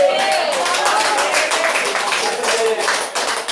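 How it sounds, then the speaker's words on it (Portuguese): A church congregation claps together in praise during a Lord's Supper service. The clapping is dense and steady and stays loud and close for the whole stretch, with no speech over it. "Pode se assentar e glorificar o Senhor com palmas."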